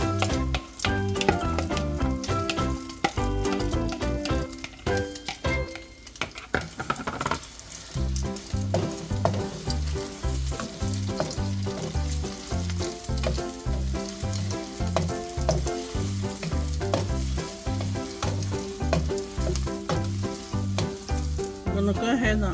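A mix of egg, bell pepper, green onion and yellow onion fries in a pan with a steady, crackling sizzle that runs the whole time beneath prominent rhythmic background music.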